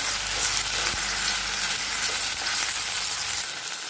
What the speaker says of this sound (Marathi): लसूण असा थोडासा बारीक करून घ्यायचं. थोडासा परतून घ्यायचं.